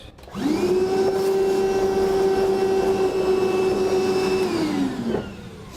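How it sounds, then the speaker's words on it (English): A steady, loud vacuum motor whines for several seconds while sucking up metal shavings from drilling a 2014 Toyota Tundra for a gooseneck trailer hitch, then spins down at the end; no talking. "Next we'll vacuum up our shavings."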